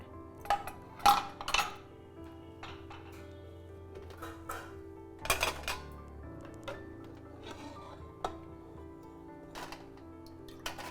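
Metal clinks and clanks of a pressure cooker being opened after cooking samba wheat rava milk halwa, several sharp knocks at irregular intervals with quieter handling rattles between them, close and fairly faint.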